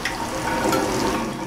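Chicken legs dropped into a pot of boiling ranchero-style chicken mole, giving a steady bubbling, simmering wash with faint splashy movement throughout, close and moderately loud, no voices.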